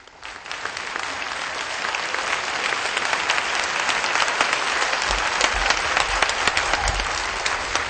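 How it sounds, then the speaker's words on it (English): An audience applauds to welcome a speaker, building from a quieter start into sustained, dense clapping from a sizable crowd, steady to the end. "with a warm of applause, please welcome the Supreme Master Chin Hai"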